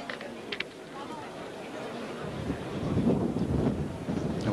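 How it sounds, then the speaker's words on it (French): Gusty wind blows across an outdoor pétanque tournament venue in Narbonne during a triples championship, a steady low rumble of microphone buffeting that swells louder toward the end, with faint voices underneath. "on voit ce vent qui ne faiblit pas ici à Narbonne"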